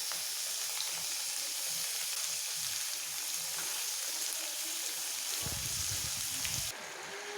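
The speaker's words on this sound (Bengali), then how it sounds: "তো এইভাবে চিকেনটা থেকে জল ছাড়ছে, খুব সুন্দর করে যাতে ভালো করে ভাজা হয়ে যায়।" Chicken pieces, including leg pieces, frying in a pan as they release water, a dense, even sizzle throughout, with a brief low rumble of stirring near the end.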